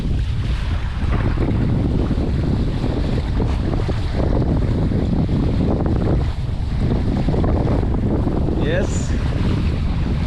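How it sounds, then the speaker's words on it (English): Strong, gusty wind buffets the microphone while a MiniCat 520 catamaran sails through the Stockholm archipelago, with rushing water and waves underneath and a brief spoken word. "Between these islands it's a bit gusty."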